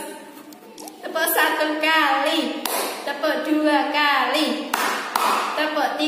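Preschool and kindergarten children chant a counting rhythm while clapping. Sharp hand claps punctuate the sung voices in a steady pattern throughout.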